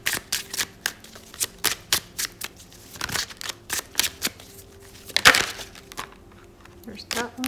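Tarot cards shuffled by hand in quick, crisp riffling bursts, roughly a dozen evenly spaced flutters close to the mic, with a brief pause near the end.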